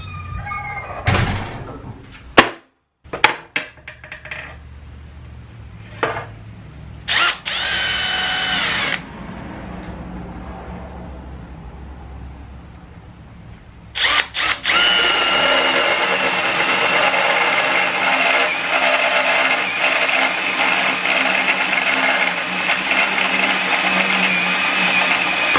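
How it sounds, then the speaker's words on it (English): Short bursts and clunks give way to a loud, sustained whine of a power drill boring a 3/8-inch hole into a steel Borgeson steering shaft for a Dodge W150, running steadily for several seconds. "I'm going to use that to drill my 3/8 hole."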